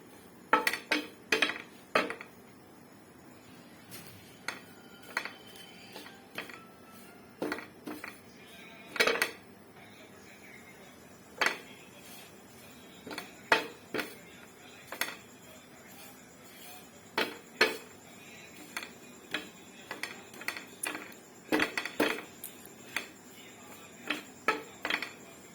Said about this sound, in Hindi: तरह हल्का हल्का चम्मच जो है वो आप हिलाते रहना ताकि नीचे लग ना जाए